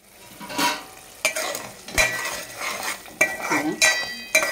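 Fish curry ingredients frying in a pan over medium heat: repeated clattering stirs of a spoon against the pan over a continuous sizzle, close and fairly loud, with no talking.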